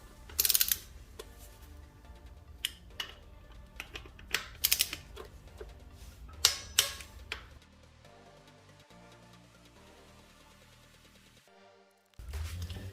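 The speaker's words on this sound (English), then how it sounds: "Tighten left-hand axle clamping screws with appropriate torque." Ratchet wrench clicks in sharp, close bursts while tightening the left-hand axle clamping screws on a BMW F 750 GS / F 850 GSA motorcycle, with a few quieter mechanical clinks and a brief silence near the end.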